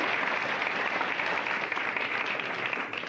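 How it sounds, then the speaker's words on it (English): Audience applause at a magic show, a steady, dense wash of many hands clapping continuously at an even level throughout. "You don't have to applaud your part of the show."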